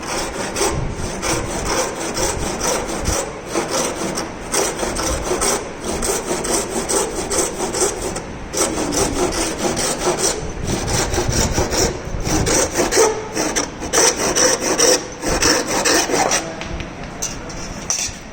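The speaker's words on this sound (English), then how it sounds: "with the help of hand saw remove the unnecessary material from the raw material" A hand saw cuts through a wooden workpiece in a carpentry shop with a steady, rhythmic back-and-forth rasp. The strokes are close and loud and continue without pause.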